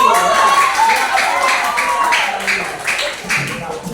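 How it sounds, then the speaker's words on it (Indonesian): Classmates applaud a student group after a presentation, a loud ragged burst of clapping in a classroom with voices mixed in throughout. "Nah, ya beri tepuk tangan untuk kelompok 1."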